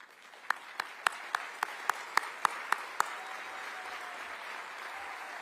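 Audience applause at a live Texas political event as members stand to be recognized, a broad wash of clapping from a crowd with a few sharper near claps ringing out steadily over the first three seconds, then settling into a fading patter.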